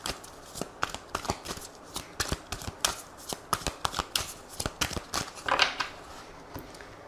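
An oracle card deck of the Aphrodite oracle being shuffled by hand: a steady run of crisp, close riffling snaps and flutters at an uneven quick rhythm, with no voice over it.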